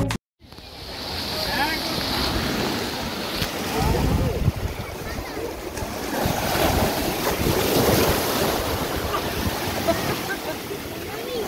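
Sea waves roll in at New Digha beach during a morning high tide, a steady broad wash of surf with heavy wind buffeting the microphone throughout, no voices.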